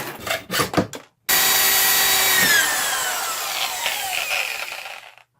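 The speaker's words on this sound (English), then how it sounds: "drill holes through each of them" A power drill bores holes through small pieces clamped in a vise, starting with a few short bursts and then one long, loud, whining run that tapers off near the end.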